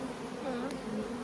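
Honeybees buzz steadily around a brood frame lifted during a hive inspection, a continuous close drone with slightly wavering pitch and no talk.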